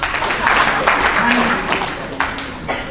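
A row of audience members at a thinking-and-planning session clapping together as part of a group sound activity, with bursts of hand claps over a noisy room and people talking through it.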